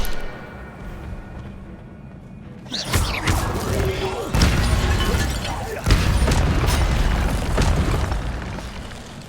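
Fiery spell blasts burst out in a wizard video game, a loud whooshing boom followed by crackling, rumbling bursts that continue steadily over several seconds after a quieter start.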